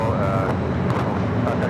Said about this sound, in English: Flare 737 MAX 8 next up for takeoff